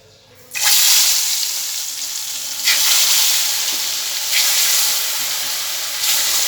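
Food drops into hot oil and breaks into a loud, close sizzle that carries on steadily, with a few fresh surges of crackling as more pieces go in.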